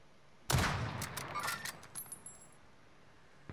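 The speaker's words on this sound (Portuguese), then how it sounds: "Alguém deu um tiro em mim." Gunfire in the video game Warzone opens with a sudden sharp burst of shots, followed by a rattling spray of quicker cracks and metallic clatter that thins out and fades over a few seconds.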